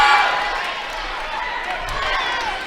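Crowd noise swells at a girls' high school basketball game between Salem and West Washington, a steady wash of cheering and chatter from the stands filling the gym, with no single voice standing out.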